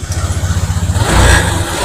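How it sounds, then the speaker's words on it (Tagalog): A Honda Click scooter is cranked with a rapid pulsing starter, then catches and its small engine settles into a loud, steady idle close by. "paandarin natin yung motor"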